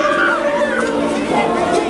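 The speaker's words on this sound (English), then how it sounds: "And there's still a nice crowd out here." An outdoor crowd in Worcester fills the air with overlapping chatter, several voices murmuring at once at a steady, fairly close level.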